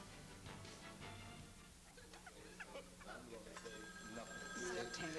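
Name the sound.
telephone ringing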